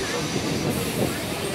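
Local train arriving at Shyamnagar station on an Eastern Railway line in India, a loud rolling rumble with clattering wheels and a brief hiss, heard close and continuous.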